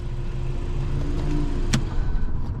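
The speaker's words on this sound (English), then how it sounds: "I'm gonna go ahead and turn the car off." A Porsche's engine idles with a steady low rumble, close by, and keeps running through the whole stretch without a clear cut-off.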